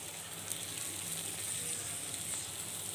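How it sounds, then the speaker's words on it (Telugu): Liver frying in a pan while being stirred, a steady, quiet bed of hissing sizzle with faint crackles throughout, close and without talking. "ఇలా కలుపుకుంటూ బాగా ఫ్రై చేసుకోవాలి"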